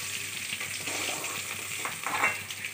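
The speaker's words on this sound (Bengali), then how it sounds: "মাছ ভাজানো হয়ে গেছে" Rohu fish pieces frying in hot oil give a steady, fairly quiet hiss, with a brief brighter crackle swelling near the end and no voices.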